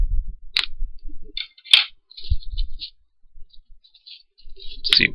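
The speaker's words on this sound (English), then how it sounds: "Scissors." Scissors snip through the packaging of Japanese Children's Day treats in a few short, crisp clicks spaced across quiet stretches, with soft rustling and handling noises in between.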